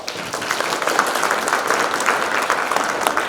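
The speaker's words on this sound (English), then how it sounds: "So let's give him a round of applause." Applause for Ambassador Feltman after a talk on the Israeli-Palestinian conflict, a steady, dense round of clapping from an audience that fills the whole stretch at even loudness.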